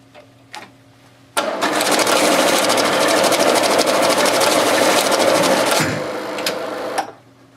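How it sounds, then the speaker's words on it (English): A Toshiba banknote sorting machine runs through a stack of bills, giving a loud, steady whirring rattle with rapid fluttering ticks that lasts about five seconds and then stops abruptly, with no talking. "Now it's going to accept all bills that are face up, and it's going to reject any bills that are face down."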